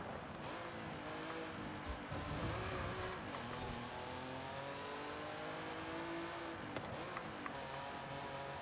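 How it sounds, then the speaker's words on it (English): A Lamborghini Espada with its standard engine and drivetrain drives in the video game Forza Horizon 5, its engine droning steadily and shifting pitch through revs, fairly faint and continuous with no talking. "Let's see what our B-class Lamborghini can do."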